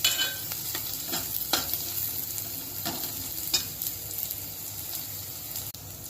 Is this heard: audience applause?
no